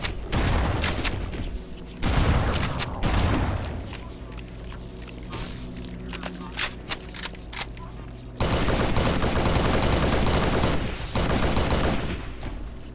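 Rapid gunfire in Halo SPV3, loud bursts and automatic fire with booms in two main clusters, separated by quieter stretches, up close with occasional speech.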